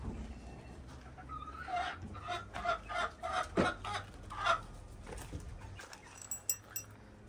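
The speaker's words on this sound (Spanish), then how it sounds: "Ahí están las gallinas ponedoras." Laying hens cluck in a run of short, repeated calls at moderate distance, with a low background hum and no talking.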